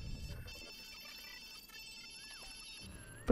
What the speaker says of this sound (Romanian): Sună telefonul, prietene.